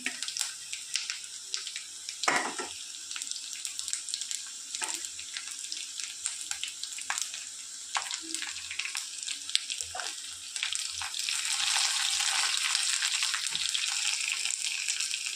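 Bitter gourd pieces fry in a pan with a soft, faint hiss dotted with scattered pops and crackles, the sizzle swelling louder and denser toward the end.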